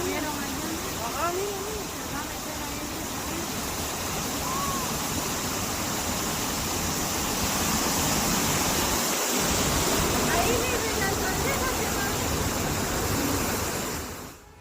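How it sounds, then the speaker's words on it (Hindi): Floodwater after heavy rain surges through streets in Valencia, Spain, a loud, continuous roaring rush that fills the whole scene for its full length, with faint voices partly buried beneath the torrent. "पानी का तेज बहाव गाड़ियों को ले गया अपने संग"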